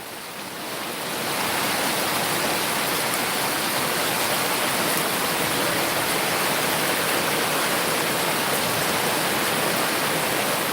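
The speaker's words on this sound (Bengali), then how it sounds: "বৃষ্টির দৃশ্য দেখরা" Heavy rain pours steadily on a village road in Barlekha, Moulvibazar, Bangladesh, during a storm, with a dense, unbroken hiss that swells in the first second and then holds loud without any voices.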